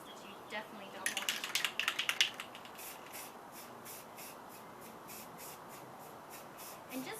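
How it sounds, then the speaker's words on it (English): Short bursts of spray paint hiss from an aerosol can onto metal for an antique rusted look, a cluster of quick squirts up close early on, then quieter faint rhythmic spraying over a low background. "it's a lot easier to control where your spray paint is going"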